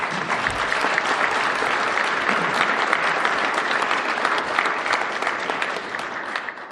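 Steady applause from an indoor audience at a Blood Tribe funding announcement, dense continuous clapping that fills the whole stretch at a fairly loud level and tapers slightly at the end.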